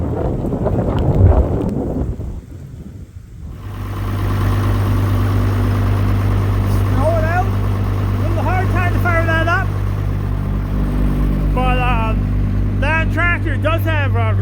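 A diesel tractor engine with glow plugs rumbles to life in a snowstorm on a sheep farm after a moment of talk, settling into a loud, steady idle close by, with voices over it.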